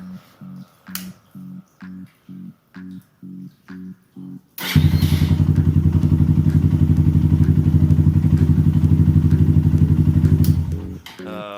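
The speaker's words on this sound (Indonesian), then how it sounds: "Untuk mesinnya ini udah bisa nyala." A Yamaha Thunder motorcycle engine, with a faulty carburetor and smoking exhaust, cranks in rhythmic pulses, then fires up into a loud, close, steady idle that runs for several seconds before cutting off.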